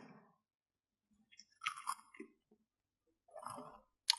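Crisp strawberry-flavoured Japanese baked corn snack being eaten, with a few close, crunchy chewing bursts separated by quiet pauses and one sharp crunch at the end.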